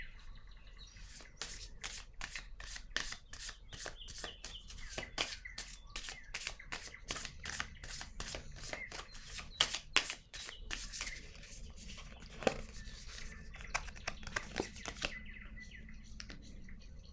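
A deck of cards shuffled and drawn, with a rapid run of crisp riffling flicks for about ten seconds, then scattered softer card handling; quiet and close with faint birdsong behind.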